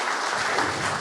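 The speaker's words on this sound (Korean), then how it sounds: "저는 한 번쯤은 박수를 쳐주실 거라고 생각을 했는데" Audience applause at an award ceremony, a brief burst of dense, steady clapping from a seated crowd in a hall, close and fairly loud.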